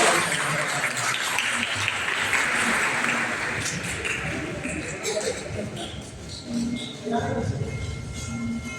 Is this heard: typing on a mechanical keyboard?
no